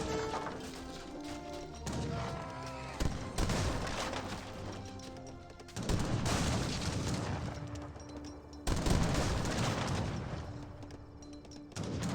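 Battle noise in an Age of Empires 3 match, with falconet artillery booms, musket volleys and crashing impacts against a frontier outpost and bank, heard in several loud bursts over background music.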